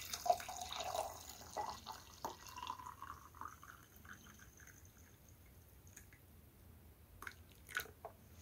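Warm water pours and drips into a container of citric acid solution used for oxidizing a knife blade, a soft, faint trickling with scattered small splashes and no talk.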